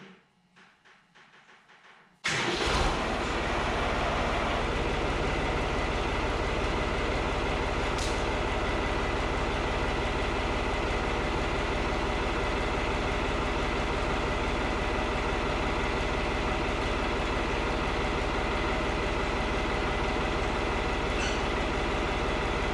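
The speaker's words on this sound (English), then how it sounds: "So we're going to fire it up and make sure we're not leaking." A tractor engine fires up after a brief quiet moment, then settles into a steady, loud idle that drones on without a break, with no one talking.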